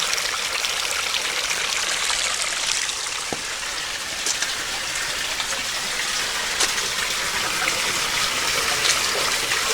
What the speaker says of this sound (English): Love the sound of that water.